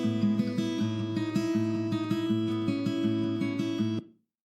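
Bright, lively electric guitar with compression and reverb dialed back to about 15%, its low bass trimmed away, playing a steady run of repeated picked notes over sustained chord tones for about four seconds before stopping cleanly.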